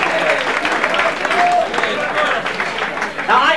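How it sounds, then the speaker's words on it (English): Audience applause at a class of '67 twentieth class reunion, a steady round of clapping from a room of people lasting the full few seconds, with faint voices mixed in. "Let's give Phil Lindbergh a nice round of applause."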